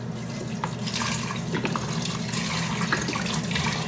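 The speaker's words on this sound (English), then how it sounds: "I'm adding a half a container of this Pacific vegetable broth." Vegetable broth pours from a carton into a pressure cooker over rinsed black-eyed peas, a steady splashing liquid stream with a low hollow gurgle, continuous and close.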